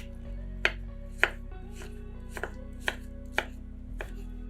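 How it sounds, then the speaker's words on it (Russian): A knife dices a tomato into small cubes on a board, about eight sharp, separate chops at an irregular pace, close and crisp over quiet steady background music. "1 помидор нарезаем сначала на пластинки, а затем пластинки режем небольшими кубиками"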